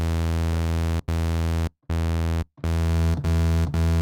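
A bright, buzzy synthesizer waveform with its filter opened holds a steady pitch, rich in harmonics, cutting off briefly a few times between sustained notes.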